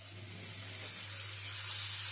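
Ginger garlic paste sizzling in a pan of hot oil with sliced tomato and spices, a steady close hiss that swells slightly over about two seconds, with a low hum underneath and no talking.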